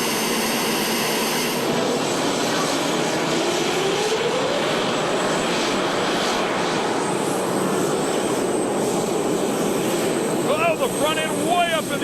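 A pulling tractor's engine gives a loud, steady roar that fills the whole stretch at a tractor pull, droning continuously with a rising whine partway through and a sharp high chirping near the end.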